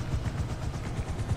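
A helicopter in GTA Online gives a steady, moderately loud low rumble with a faint rhythmic rotor pulse, heard alone with no talking.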